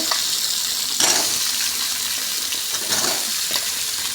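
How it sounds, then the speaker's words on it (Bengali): Potato, onion and tomato fry in a pan with a steady, close broadband sizzle, and stirring scrapes stand out near one and three seconds. "তা ভালো করে ভেজে নেব কালারটা হওয়ার জন্য"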